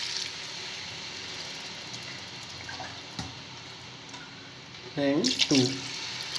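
Water poured from a glass into a pot of basmati rice being prepared for chicken biryani in a home kitchen, a short splashing burst near the end under a faint background hum, with a brief spoken word.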